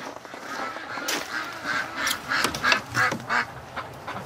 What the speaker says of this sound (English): You can hear them quacking in there.